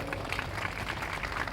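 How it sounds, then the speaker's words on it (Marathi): An audience at a temple religious gathering claps together in steady, dense applause, moderately distant and continuous for the whole moment. "एकदा टाळ्या वाजवा द्यावा."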